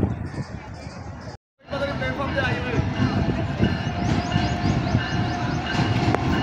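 Train 1 Up, led by a GEU 40 locomotive, approaches Sahiwal railway station, its steady rolling rumble and clatter heard over crowd babble on the platform, with a brief dropout early on.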